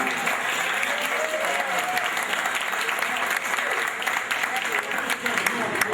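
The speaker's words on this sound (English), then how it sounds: "I think we should give a round of applause to the management staff of the Clevelander and the bar mates for all." Crowd applause at a retirement party at The Clevelander, a continuous loud roar of clapping from many guests with voices mixed in, holding steady throughout.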